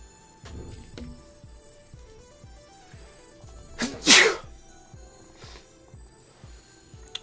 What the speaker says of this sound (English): And I sneeze when I get cold.